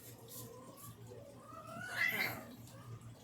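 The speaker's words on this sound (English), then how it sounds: "I'm sure you can hear my little kitty" A cat lets out a faint, drawn-out meow with a rising, wavering pitch, heard quietly over a low background hum.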